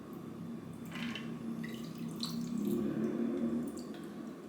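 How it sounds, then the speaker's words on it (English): Cocktail poured into a glass holding mint leaves and lemon wedges: a soft, steady liquid trickle lasting a few seconds, close and fairly quiet, with no talking. "I'm gonna go ahead and pour that in to our glass."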